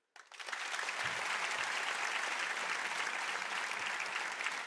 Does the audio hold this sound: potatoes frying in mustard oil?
no